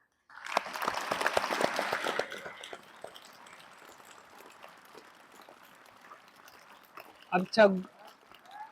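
Students at a school yoga and meditation session clap to thank their teacher, a dense burst of applause that fades into a low murmur before a voice speaks briefly near the end.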